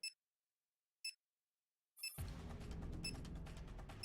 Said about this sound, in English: The beeps grow steadily more frequent over time.